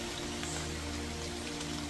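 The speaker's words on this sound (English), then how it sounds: "The wind and the raindrops falling." Wind blows while raindrops fall steadily, a soft, even hiss of rain with a faint low rumble underneath and no voices.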